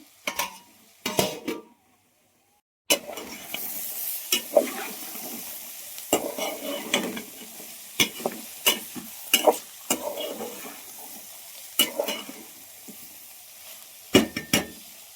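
Ivy gourd pieces sizzle in a pan while a spoon stirs and scrapes them in bursts of clatter, with a short quiet gap early on.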